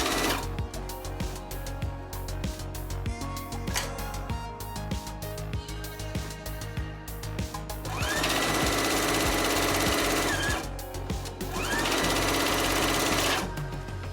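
A sewing machine stitches quilt pieces in steady, rapid bursts of mechanical whirring, running in continuous stretches with short pauses between them and no talk over it.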